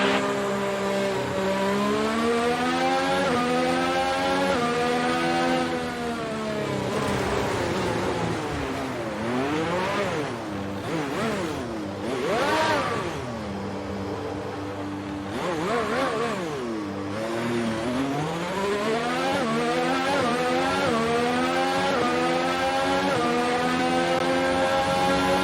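A worn Formula 1 car engine in the F1 2019 racing game at the Spanish Grand Prix screams continuously, rising and falling in pitch through upshifts and downshifts as the car brakes and accelerates through corners, loud and steady for the whole stretch.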